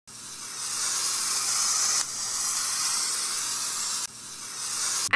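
Spraying attack hiss from a creature in the Roblox game Creatures of Sonaria: a steady, loud broadband hiss in three sustained bursts of about two seconds each, alone without talk.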